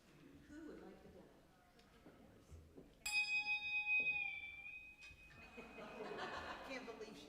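A church ensemble plays handbells in a sacred music piece: one bright, ringing chord struck once and left to decay over a few seconds, amid quiet room noise and soft chuckling nearby.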